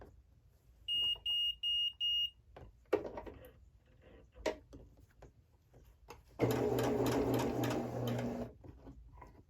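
A sewing machine stitches sashing onto garden fence quilt blocks at a quarter-inch seam, heard as a close, steady mechanical whirr for about two seconds near the end, after several short beeps and faint handling knocks.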